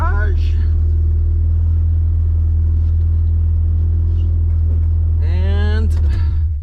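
A Honda Integra, its exhaust not yet fitted, idles and rolls into a garage with a loud steady low rumble and a couple of rising revs, while someone talks over it.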